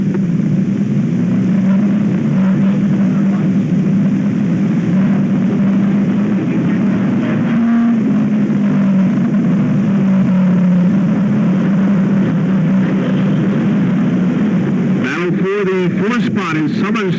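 Race car engines droning around the oval at Sunshine Speedway, a steady roar with shifting pitch as cars pass, heard under continuous race commentary.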